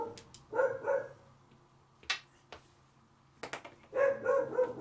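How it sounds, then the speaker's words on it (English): A pet dog barking indoors during a board game session, a few loud, sharp barks in short clusters with brief yips between them, close by, with no talk over them. "Frankie, that was the music, you stupid dog."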